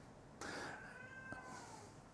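A pet cat lets out a faint, drawn-out meow indoors, a single wavering cry that trails off slowly, with no talking over it.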